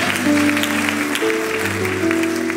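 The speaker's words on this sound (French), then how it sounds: "Acclamons Jésus." A church congregation applauds and acclaims Jesus, a steady wash of clapping mixed with sustained organ or keyboard tones throughout.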